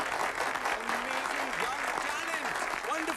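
Sustained audience applause after a stage performance, an even wash of clapping at moderate loudness while a voice talks over it.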